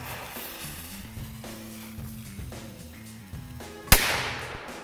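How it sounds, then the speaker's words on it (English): A large Demon bola firecracker blasts against a Coca-Cola bottle: one sharp, loud bang near the end, following a stretch of background music, with a short decaying hiss after the crack. "All right, demon bola firecracker versus Coca-Cola."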